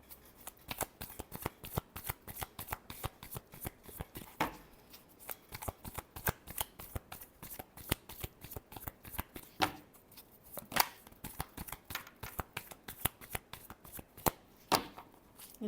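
Playing cards are shuffled again and again in quick riffles, a dense run of crisp flutters and snaps, close and steady, with short breaks between bursts.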